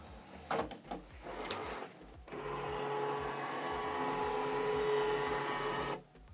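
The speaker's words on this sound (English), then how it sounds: "The printer will scan the document." A Canon Pixma TS3751i printer scans an alignment sheet, starting with a few clicks and mechanical clunks, then settling into a steady whirring motor hum with a faint tone for several seconds before it stops.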